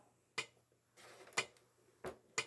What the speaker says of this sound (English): So here's the metronome.